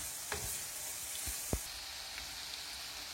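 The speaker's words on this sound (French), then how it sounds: "Ensuite, je rajoute le poivron et je laisse bien revenir." Bell pepper frying in a pan after onion, a quiet steady sizzle with a few soft clicks and knocks of a utensil.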